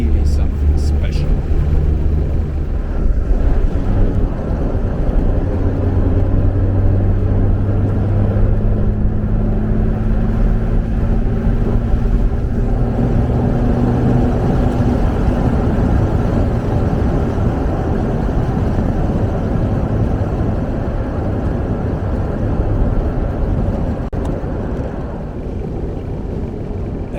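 A 1953 Jaguar XK120 drop-head coupé drives along, its steady low engine drone and road rumble continuous and fairly loud throughout, with wind noise above and a voice talking over it.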